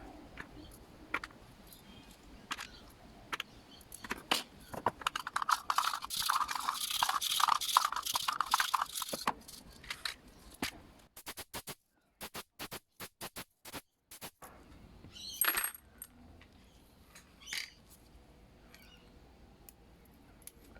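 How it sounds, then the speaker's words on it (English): Small screws from a Stihl FS85 brushcutter drop and rattle into a metal strainer, making a run of close, crisp clinks and crunchy rattles that thin out into sparse separate ticks with short silent gaps. "Let's place all the screws inside the T strainer."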